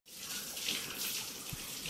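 Water poured while changing the water of a home fish tank: a steady, quiet, continuous splashing stream heard alone with no talk.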